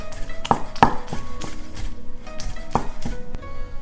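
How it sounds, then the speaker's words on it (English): A knife slicing soaked shiitake mushrooms on a cutting board for vegan yuba rolls, giving several separate, fairly close chopping taps with short gaps between them and no talk. "Strain the soaked shiitake and slice it up."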